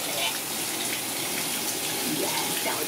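A shower head running steadily in Tampa, an even hissing spray of water close by, with faint voices in the background.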